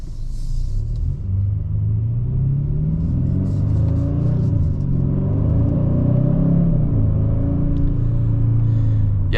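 2025 Kia K5 GT turbo engine accelerating in manual mode, a deep steady cabin rumble with engine tones rising and shifting, heard from inside the car.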